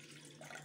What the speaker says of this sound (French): Je mets de l'eau. On va la diluer dans un verre d'eau.